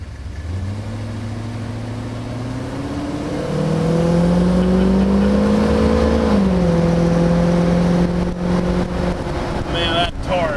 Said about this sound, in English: But it's tuned dual exhaust is what Mercury called it, but it's still nice and quiet for when you're cruising.